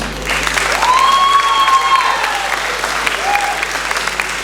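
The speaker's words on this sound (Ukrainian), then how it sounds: "Аплодисменты конкурсантам." An audience at a beauty contest applauds the contestants. Many hands clap in a loud, sustained burst, and a few voices and a faint whistle rise above it.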